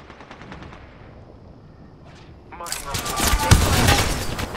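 Video game gunfire starts with a few faint, distant taps, then breaks into loud, sustained automatic bursts of close shooting in the second half. A voice speaks briefly over the combat.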